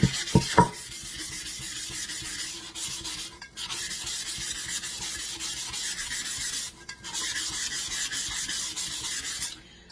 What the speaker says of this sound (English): I take the sand block and I just scrape all around the tumbler.